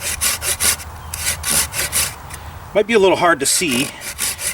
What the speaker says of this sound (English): I'm just going to make a series of cuts all the way down